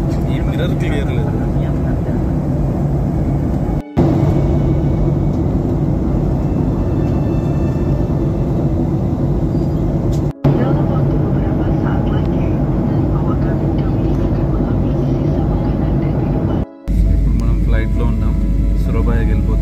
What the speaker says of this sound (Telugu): ఫ్లైట్ సౌండ్ వస్తుంది జూజ్ అని